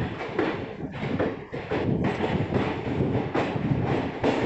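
Mussoorie Express passenger train arriving at Haridwar station, a steady, loud, close rolling rumble of coaches on rails with faint wheel clatter throughout and no talk.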